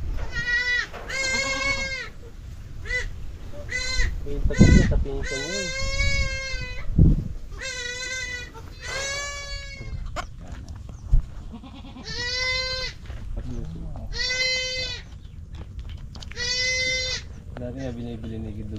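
Several goats bleat in repeated wavering cries on a farm, some loud and close, with people talking quietly in between.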